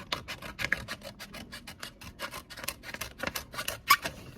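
Scissors cutting paper for a children's pencil-holder craft, a close run of rhythmic rasping snips for about four seconds with no voices.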